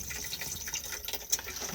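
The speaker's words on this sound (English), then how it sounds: "And then push to flush just here." Cassette toilet flush in a 2021 Benimar Benivan 122 motorhome, a steady faint hiss of rushing water that runs for under two seconds.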